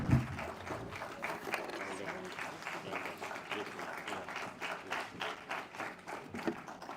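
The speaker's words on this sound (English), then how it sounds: "Please give a big round of applause again to our keynote speaker." An audience at an induction ceremony in Sierra Leone applauds a keynote speaker, a fairly faint, continuous patter of many hands clapping for several seconds.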